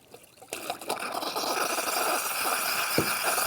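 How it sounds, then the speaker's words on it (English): Steam wand of a Gaggia Baby Twin espresso machine opens with a sputter and builds into a steady, fairly loud hiss of escaping steam, with a brief pop near the end. "It's starting to produce some steam."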